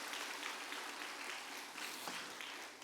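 Korean church congregation applauding during a spring revival service, a faint, even spread of many hands clapping for a few seconds with no talk over it.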